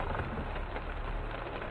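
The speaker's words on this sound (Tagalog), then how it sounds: "And it's raining again." Rain pours down steadily on a flooded city avenue, a dense, close hiss of drops on surfaces with no pause across the short stretch.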